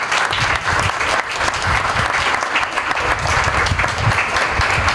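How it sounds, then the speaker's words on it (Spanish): Audience applause for a club president at an annual event, a loud, dense and steady clapping crowd sustained for the full five seconds with no speech over it. "Al señor Juan Coronado, un fuerte aplauso."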